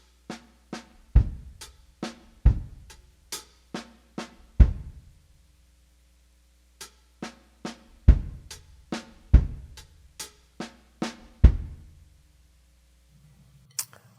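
Drum kit playing a linear groove, single hits spread across hi-hat, snare and kick in quick interlocking patterns with short pauses between phrases, close and dry, no talking.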